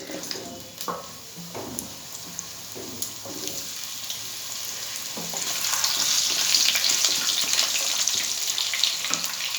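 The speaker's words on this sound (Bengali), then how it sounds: "এর মধ্যে দিয়ে দেবো আমি গোটা জিরে, এর মধ্যে আলুগুলো ভেজে নেব।" Potatoes fry in oil with whole cumin seeds, starting with clattering stirs and scrapes, then swelling into a louder, dense crackling sizzle that holds through the second half.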